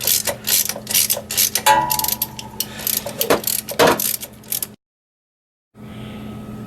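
A ratchet wrench with a 17mm socket clicks in rapid bursts of pawl ratcheting while removing motor mount bolts from a 2000–2005 seventh-generation Toyota Celica, close and loud, stopping abruptly into a brief silence before a low background hum resumes.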